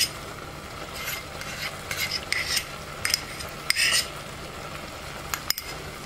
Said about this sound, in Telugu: ఈ నెయ్యి అంతా కూడా దీనిలో వేసేసుకుందాం